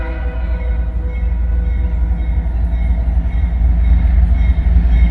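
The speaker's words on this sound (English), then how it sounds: "Just a couple of locomotives." A CSX train led by a couple of locomotives passes near Big Sandy Junction, a loud steady low rumble of engines and rolling cars continuing throughout, with no talking.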